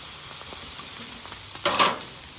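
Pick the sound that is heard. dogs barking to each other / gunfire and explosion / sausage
sausage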